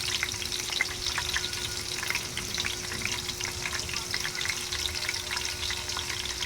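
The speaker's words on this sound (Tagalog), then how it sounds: "pipirituhin natin. Kailangan mainit na mainit ang kawali" Food fries steadily in a very hot pan, a continuous crackling sizzle throughout, with a faint steady hum underneath and no talking.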